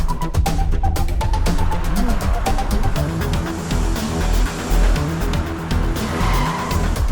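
Cartoon cars race away recklessly through red lights, tires squealing and skidding over loud engine roar, with sharp bursts and screeches close by.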